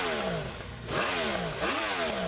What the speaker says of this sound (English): Okay, and now... The Yamaha is going to sound so much better.